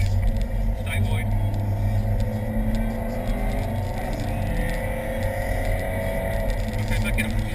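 A car accelerates around the Rockingham circuit, its engine a steady, loud rumble throughout with rising harmonic tones, while a person talks over it.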